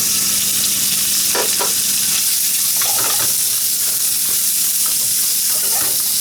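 Meat frying in oil in a pan, a loud steady hiss of sizzling throughout, with occasional soft scraping stirs and light clinks near the pan.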